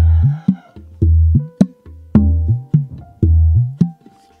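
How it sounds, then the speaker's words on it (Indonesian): Raw kendang drum strokes fed straight into a mixer: a series of close, dry, punchy low thumps with pitch-bending 'dut' tones, played in a quick uneven rhythm with short gaps and sharper slaps between. "Ini suara Dut yang mentah ya, masuk ke mixer ini langsung."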